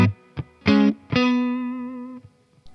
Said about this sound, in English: I'm just going to set up a clean loop into the Fender Deluxe Reverb.